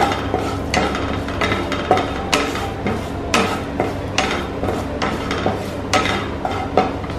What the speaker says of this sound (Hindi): और हम डाल देंगे इसमें कसूरी मेथी, जस्ट थोड़ा सा भून लीजिए इसको।